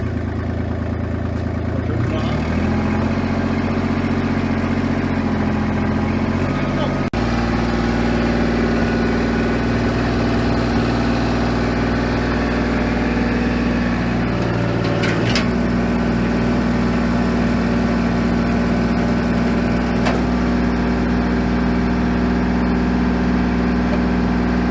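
Kubota BX42S compact tractor engine running steadily after a warm restart, a loud continuous mechanical drone with a brief change in pitch early on and a few faint clanks over it.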